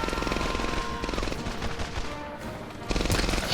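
A light machine gun fires in the World War II shooter Medal of Honor: Airborne, pouring out rapid sustained bursts of gunfire. A fresh loud volley comes near the end, and other combat sounds play in the background.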